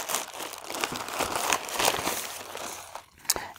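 A cardboard shipping package sent from Bulgaria holding an Olimex ESP32-P4 development kit is cut open up close: crinkly rustling, scraping and short tearing bursts in an uneven run, with one sharp crackle near the end.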